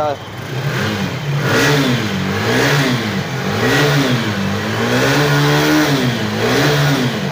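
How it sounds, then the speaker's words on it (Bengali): A nearly new KTM 250 motorcycle, about a month old with 1,500 km on it, revs repeatedly up and down. The engine note rises and falls in a smooth wavering rhythm, close and loud. "একদম অসাধারণ সাউন্ডের সঙ্গে KTM 250 একদম নিউ কন্ডিশনে আছে বাইক।"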